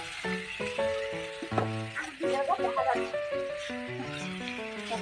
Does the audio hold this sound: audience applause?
no